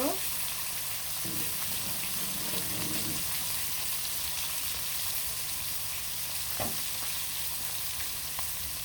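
Snakehead fish and chopped onion frying in hot oil, a loud continuous sizzle close up that runs steadily throughout, with a couple of brief utensil scrapes and no clear speech.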